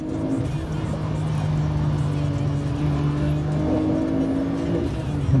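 BMW E36 engine revving hard while drifting, a sustained loud droning rev with pitch shifts up and down, close by, with people talking over it.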